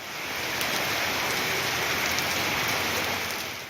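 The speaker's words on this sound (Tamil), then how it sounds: "பழனியில் 1 மணி நேரம் பெய்த கனமழையால் வெப்பம் தணிந்து குளிர்ச்சி நிலவியது." Heavy rain pours down in Palani, a steady, dense hiss of downpour that stays loud and unbroken throughout, with no voices.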